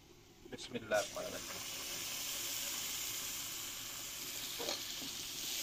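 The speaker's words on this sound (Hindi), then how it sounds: "अच्छी तरह से भूनेंगे अदरक लहसुन के पेस्ट को" Continuous sizzling hiss of ginger garlic paste frying in a hot pan, with a few brief stirring clatters and faint voice sounds near the start.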